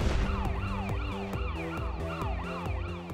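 A fast emergency siren yelps in rapid repeating up-and-down sweeps, loud and close, cycling about twice a second with no talking, from a West Midlands ambulance rapid response car.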